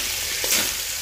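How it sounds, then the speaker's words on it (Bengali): Pasta and Maggi noodles frying together in a pan with potato, cauliflower, onion and chilli, a short burst of steady, bright sizzling, close and continuous, with no voices. "এই যে মাসি রান্না করতেছে পাস্তা ম্যাগি একসাথে আর কি"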